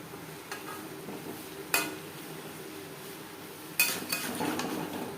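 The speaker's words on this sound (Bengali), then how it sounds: "কাবলি ছোলা মশলা ও চর্বি চানার সাথে বেশ ভালো করে মিক্সড করে দেব" Chickpeas (kabuli chana) being mixed with spices and mutton fat in a pan, a steady soft scraping and stirring with two sharper metallic clinks of the utensil against the pan.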